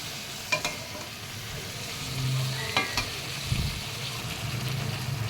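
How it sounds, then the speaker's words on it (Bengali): Chicken with garam masala sizzles in a pan while being stirred, a steady frying hiss broken by a few utensil scrapes and clinks, near and fairly loud, with no voices. "গরম মশলাটাও দিয়ে দিলাম। এবার ভালো করে কষাতে থাকবো।"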